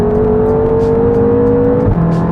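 A BMW M5 F10 engine pulls hard under acceleration, its steady rising drone loud and close from inside the car, with a brief dip near the end as the pitch drops, like a gear change, and no voices.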